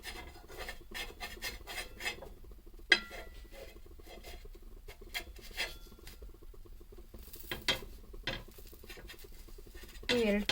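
A cooked leaf vada being cut through the middle: faint, irregular scraping and tapping of a knife on a plate or board, with soft rustles and a louder scrape near the end, quiet and close without speech.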